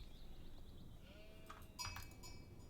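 A faint sheep bleat wavers over low Age of Empires IV game ambience, followed by a few soft clicks; quiet and distant, no talking.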